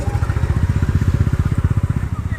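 Single-cylinder KTM Duke motorcycle engine chugging in a steady, fast pulsing beat close by on an icy, frozen mountain road near Badrinath, loud and continuous throughout.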